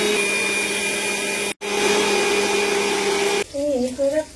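Mixer grinder whirring loudly and steadily as it grinds soaked rice with a little water into paste for chitoi pitha, with a brief stop partway through, then a voice speaking as the motor continues.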